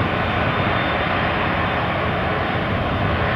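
An aircraft passes over the airfield at the Farnborough 2016 airshow, giving a loud, steady engine roar that fills the whole stretch without letup and with no voices.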